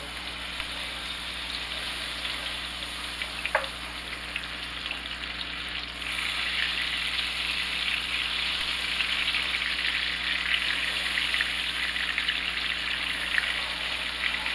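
About two tablespoons of butter melt in a pan on a stovetop with a steady, gentle sizzle. The sizzle holds for the whole stretch and grows slightly louder partway through, with no talking.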